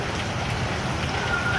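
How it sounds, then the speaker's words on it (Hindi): Heavy rain pours outdoors as a dense, even hiss of drops hitting surfaces, close and constant with no let-up and no talking. "बारिश हो जा रही है बहुत तेज"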